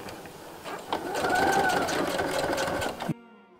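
A sewing machine runs a straight stitch along a dress, a close, steady motor whir with a faint rising whine that cuts off abruptly near the end.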